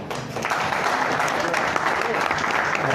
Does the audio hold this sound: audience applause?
yes